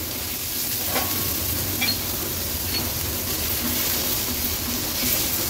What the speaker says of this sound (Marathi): तो देखील कांद्यासोबत परतून घेते